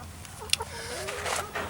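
Chickens clucking at a coop built from pallet skids, a few short, soft clucks and squawks scattered over a quiet outdoor background.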